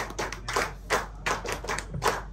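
Audience clapping at a certificate-giving event, several short bursts of applause in quick succession with brief gaps between them, close and fairly loud, no talk over it.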